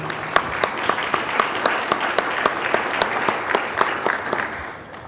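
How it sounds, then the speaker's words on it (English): Audience applause for a panel at a Class VI permitting policy event, dense steady clapping with sharper individual claps standing out, fading toward the end. "A round of applause for our panelists, please, and the next panel."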